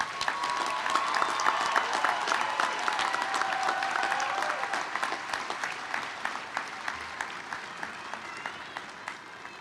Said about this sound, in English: Let's applaud all of our graduates.